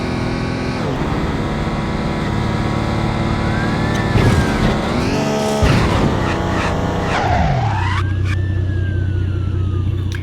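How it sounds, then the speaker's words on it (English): Car drifting in Midnight Club II, tires squealing in long sliding skids over a loud, steady engine roar, with a siren-like wail rising and falling partway through. "We have a drift there, save some speed."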